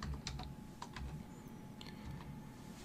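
Faint, quick plastic clicks of keys pressed on a TI-Nspire CX graphing calculator keypad, a handful of separate taps and short bursts in a quiet room.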